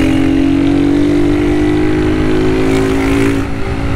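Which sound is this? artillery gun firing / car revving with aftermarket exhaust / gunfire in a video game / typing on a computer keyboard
car revving with aftermarket exhaust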